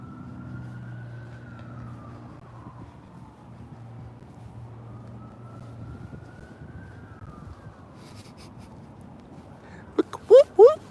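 A faint vehicle siren wails in slow rising and falling sweeps under low rumbling traffic, followed near the end by a few short, sharp bursts of a louder whoop-like sound.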